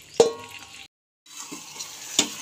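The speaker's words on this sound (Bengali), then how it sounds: "এখন এর মধ্যে দিয়ে দিচ্ছি ভেজে রাখা বেগুনগুলো।" Fried eggplant pieces tipped into poppy seed paste in a pan on low heat, giving soft sizzling and spoon-scraping knocks, broken by a short silent gap and then a sharper clack.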